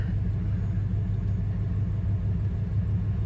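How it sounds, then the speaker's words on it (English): A Ford F150 pickup fitted with a swapped Navigator engine runs nearby with a steady low rumble, holding an even, idle-like drone throughout with no clear rev peak. "Gonna give her a little rev here."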